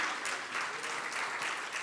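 An audience at a regional business innovation awards ceremony applauds award winners standing on stage, a brief, even patter of clapping heard from some distance.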